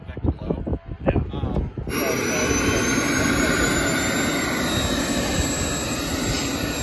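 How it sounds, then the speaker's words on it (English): Voices talk briefly, then a radio-controlled jet airplane's engine breaks into a loud, steady, close roar as it takes off and holds for several seconds. "Okay, I'll take off, I'll get in here and then I'll put the vector low."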